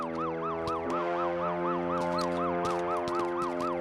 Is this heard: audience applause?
no